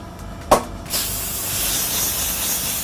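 Compressed air hisses through a quick fill fitting into a car tyre, filling it to about 30 psi at a tyre shop: a short sharp burst, then a steady, continuous rush of air that runs to the end.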